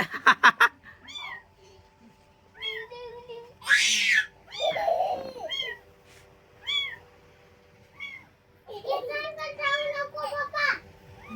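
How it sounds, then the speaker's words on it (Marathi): A kitten mews repeatedly in short high cries, some overlapping with a voice nearby. "हे आमची छोटीशी मांजर"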